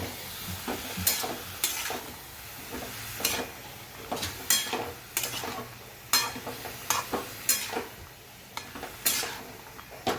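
Mixed vegetable sabzi with tomato and coriander stirred in a hot pan, a steady sizzle broken by sharp, repeated spatula scrapes and clanks about once a second, close and without speech.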